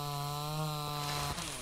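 A chainsaw in the survival game Mist Survival rips through wood with a steady, loud buzzing drone that holds nearly constant for a second and a half, briefly dipping near the end as the cut finishes.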